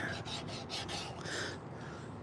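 Hand sanding of a hand-carved wooden spoon, several quick rasping strokes in a steady back-and-forth rhythm, close and moderately loud, then fading to a quieter rub at the end with no speech.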